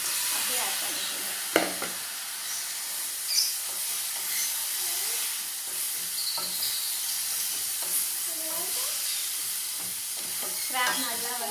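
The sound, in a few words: crab frying with masala in pan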